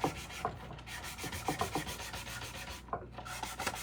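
A wooden craft frame being sanded by hand to rough up its surface, giving repeated rhythmic scraping strokes, close and steady, with a short pause near the end.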